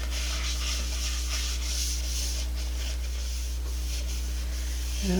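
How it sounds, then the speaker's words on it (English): Cloth rubbing with denatured alcohol over a turned willow and recycled epoxy wood bowl, a steady, continuous soft swishing friction held close and even throughout, with a low constant hum underneath and no talk. "Let's wipe her down with some denatured alcohol."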